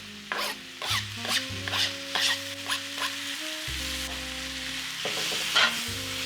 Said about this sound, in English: In goes the beef.